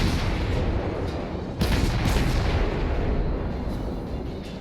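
Naval artillery from a battleship in the World of Warships game fires in a dense, sustained rumble, with a sharper boom about a third of the way through standing out from the continuous roar of gunfire.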